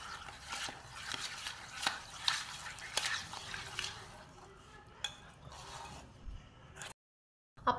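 A spoon stirs cream and milk into Oreo cake batter in a bowl, giving soft scraping swishes and occasional light clinks against the dish. The stirring thins out toward the end and is followed by a moment of silence.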